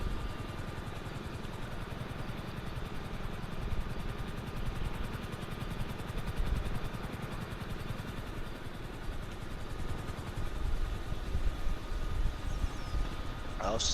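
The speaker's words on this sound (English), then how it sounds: "I was just moving the helicopter onto the roof." Steady, continuous rotor thump and engine whine of a helicopter in a video game, droning evenly at a moderate level for the whole stretch, with voices talking over it.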